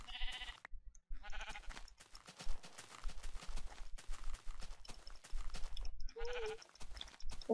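Video game sheep bleat several times over a steady run of clip-clopping hoofbeats, the bleats loud and close, with no talking.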